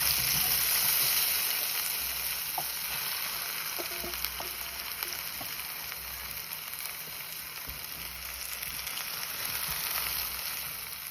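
Eggplant pieces rubbed with salt and spice powder sizzle in hot oil, a steady close crackling hiss with occasional faint pops and stirring sounds throughout.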